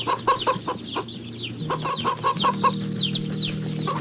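Chickens in the video game Wytchwood cluck in quick repeated bursts over a steady low farmyard ambience, several birds calling close together with no talking.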